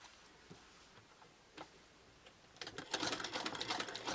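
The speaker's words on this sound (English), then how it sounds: "I'm going to sew the short end" A sewing machine without reverse stitches the short-end seam of fabric for a Victorian handbag, with faint scattered ticks followed by a louder continuous rapid whirring run of stitching.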